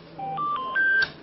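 A mobile phone rings with a short rising sequence of clear electronic beeps, each a different pitch, in a shop scene from a Turkish drama, played close and alone.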